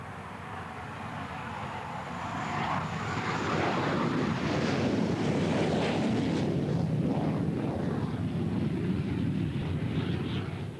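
A Hawker Hunter jet aircraft roars steadily as it climbs, its broad engine rumble mixed with wind noise and building slightly in intensity.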